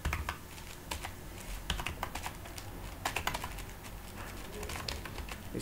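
Code being typed on a computer keyboard, a fast irregular run of close, crisp key clicks with no talk.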